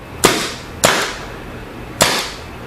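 Three sharp shots from a Kingman Chaser fired at a target range in a garage, each a crisp crack with a short echoing tail, spaced unevenly and loud up close.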